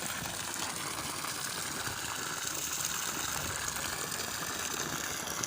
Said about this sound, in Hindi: अभी देखते हैं माशाल्लाह अभी मोटर चालू हो गया। ये देखो पानी